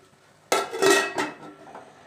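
A metal lid drops onto a pot set up to steam instant junnu made with Kamadhenu junnu powder. One sharp clank is followed by a short rattle as it settles, then quiet.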